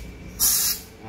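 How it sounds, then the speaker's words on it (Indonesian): A short, sharp hiss of carburetor cleaner being sprayed onto an engine part during an engine teardown, lasting about a third of a second over a faint low hum, close up with no talk. "Nah itu semprotannya."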